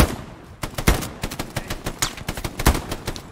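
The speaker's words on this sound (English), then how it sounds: "Somebody's shooting me" Rapid gunfire in the World War II shooter Hell Let Loose, a dense run of sharp cracks and bursts firing in quick, uneven succession and fairly close, with no voices.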